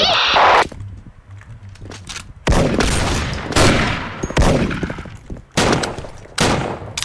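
Several loud, sharp gunshots from a semi-automatic sniper rifle in the game Special Force ring out at irregular intervals, each with a brief echoing tail, amid game sound effects.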